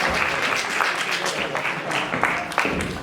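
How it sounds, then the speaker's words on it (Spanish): An audience in a public library lecture hall claps to welcome a speaker, a dense and steady round of applause that stays even throughout with a few sharper individual claps standing out. "esto de ser aplaudido antes de intervenir siempre está bien"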